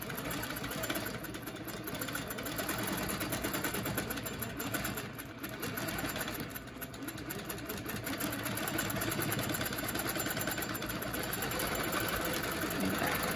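A sewing machine stitches steadily around a curved seam line guided by a quilting ruler template, running continuously at a moderate, even pace for the whole stretch with only slight dips in speed.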